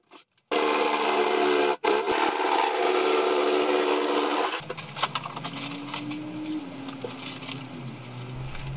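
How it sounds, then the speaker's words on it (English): A jigsaw cuts rotten wood out of a garden shed floor, giving a loud, steady buzzing rasp after a brief start. The cut stops for a moment, then the saw runs again before dropping to a lower, rougher whir at the end. "I used my jigsaw, obviously avoiding any of the joists, and I just tried to make the hole in the floor a little bit neater"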